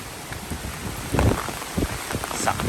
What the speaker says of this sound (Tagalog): Lakas ng ulan.